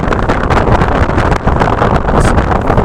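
Strong wind roars and buffets the microphone at a graveyard in Bayburt, Turkey, in a continuous, heavy rush with no pauses, loud and close throughout.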